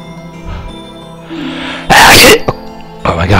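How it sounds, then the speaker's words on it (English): A loud, close sneeze bursts out during a Majora's Mask game session, preceded by a short gasping intake and followed by a second shorter burst, with game music playing underneath. "I gotta sneeze."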